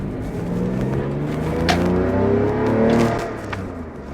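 A Porsche 911 engine revs up and down close by, a throaty rising and falling roar with the exhaust prominent, no talking.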